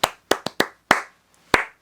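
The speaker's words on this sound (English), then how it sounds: "Clapping patterns. You can use your own clapping patterns." A rhythmic hand-clapping pattern, the kind a teacher uses as a classroom attention signal: seven crisp, close claps in uneven groups with short pauses between them, heard alone with no voices.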